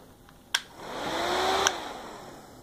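A small Windmere curly top hair dryer, model CT-1/467, whirs with a steady airy blow after a sharp click, rising slightly then easing, with another click as it shifts setting.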